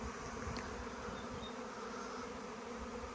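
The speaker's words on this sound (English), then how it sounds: "I've just been woken up to the sound of this absolutely loud roar of swarm of bees have turned up" A swarm of bees gives off a loud, continuous roaring buzz that fills the air with no letup, close and dense from start to finish.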